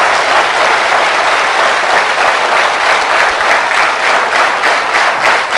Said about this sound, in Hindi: आपकी तालियां ऐसी होनी चाहिए कि शुरू भी आप करें और खत्म भी आप करें।